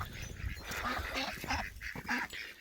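Homestead ducks honk and quack in a short burst of repeated calls on a cold, windy day, close and fairly clear against a soft background.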